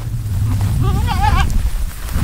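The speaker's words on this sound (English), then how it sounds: "All right, well that's it for the goats." Goats on a Kansas farm bleating in a short wavering call over steady outdoor background noise, with the livestock sounding fairly close.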